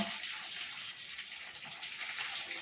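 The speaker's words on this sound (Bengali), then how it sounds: "এগুলোকে আমরা জল দিয়ে ধুয়ে নিলাম।" Pieces of rohu fish rinsed in water in a kitchen, a soft steady splashing and trickling, fairly quiet and continuous, no voices.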